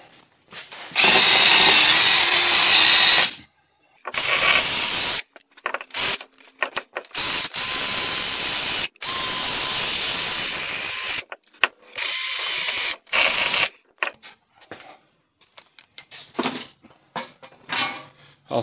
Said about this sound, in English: Next, I think we'll wire brush this.